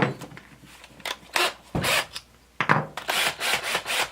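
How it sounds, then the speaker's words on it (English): A rough, scraping drill bit grinding through a jar lid in short bursts with brief pauses, close and fairly loud. "So just slightly with the weight of the drill, without pushing, drill your hole."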